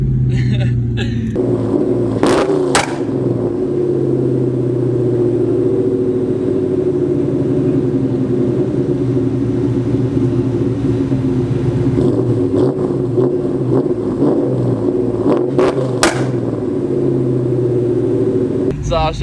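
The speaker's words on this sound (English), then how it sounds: "Revving it up, and then I'm gonna go full throttle and stick the clutch in." Car engine held at high revs with a steady, loud droning rumble for the whole stretch, with brief sharp bursts in the two-step style near the start and again later; speech is also detected.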